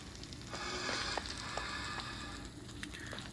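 Blaze mobs in Minecraft make crackling, fiery hissing with a few short breathy bursts, steady and moderately close, without talking.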